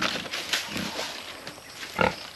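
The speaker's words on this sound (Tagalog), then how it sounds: "happy na happy yung mga baboy natin dito sa loob" Pigs kept in a pen on a farm grunt and squeal close by, several animals calling in irregular bursts with one sharper squeal near the end.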